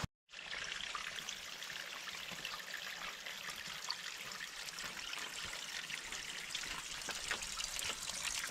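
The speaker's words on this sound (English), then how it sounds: "A trickle of water coming off the cliff and running down here" A small trickle of water coming off a cliff and running down over rocks toward a creek at Silver Falls State Park, a steady close splashing babble that continues unbroken after a brief silent start.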